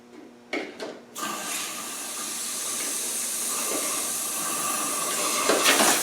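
Krown rustproofing spray hisses steadily as it is sprayed into a car body cavity, a loud continuous rush after a few short bursts at the start, running unbroken to the end.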